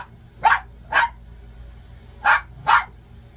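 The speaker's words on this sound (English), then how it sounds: "Are you done barking?" A small dog barks four times in two quick pairs, sharp and close, with a quiet pause between the pairs and no talking.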